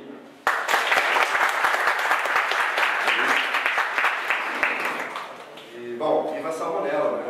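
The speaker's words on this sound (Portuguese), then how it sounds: "palmas para ele" Audience applause breaks out at a Brazilian talk, a loud, dense burst of clapping that holds steady, then tapers slightly as a voice begins speaking over its tail.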